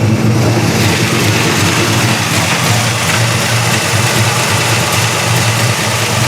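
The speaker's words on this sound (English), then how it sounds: "It's actually a fairly stock 318. I know it sounds a little bit lumpy, but it's just got that thumper cam." A 1974 Dodge Charger with a fairly stock 318 V8 and a thumper cam idles with a loud, lumpy, uneven lope, steady and close throughout.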